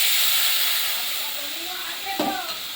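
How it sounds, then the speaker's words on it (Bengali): Water poured into a pan of hot fried masala for a fish and potato curry, a loud steady steam hiss that slowly fades, with a brief splash and bubbling near the end. "এবার আমি জল দিয়ে দেব পরিমাণ মতো"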